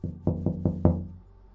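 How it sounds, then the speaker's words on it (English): A car window is knocked on from the driver's side: four evenly spaced, hollow knocks, close and fairly firm, with no talking. "Another knock came from the driver's side."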